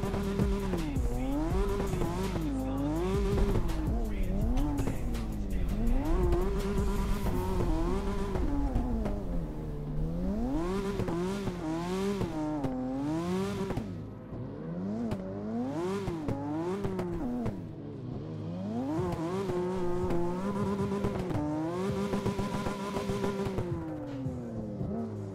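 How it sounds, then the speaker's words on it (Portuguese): Drifting car in the CarX racing game, its engine revving up and down in wavering surges with tire squeal and skidding running almost continuously, loud and close throughout with no talk. "que drift irado"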